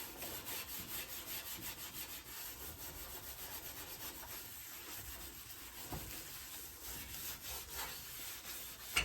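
Rhythmic back-and-forth scrubbing on a greasy stove top, quick repeated strokes at close range, fairly quiet and steady with a sharp knock at the end and no talk.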